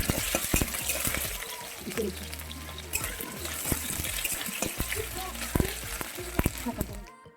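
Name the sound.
potatoes frying in hot oil in a wok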